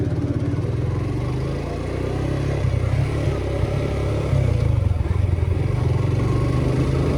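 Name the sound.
motorcycle riding at night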